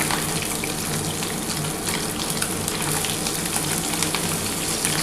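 Desi tangra fish frying in oil after both sides have browned, giving a loud, steady, hissing sizzle with fine crackles that holds evenly from start to finish. No one speaks.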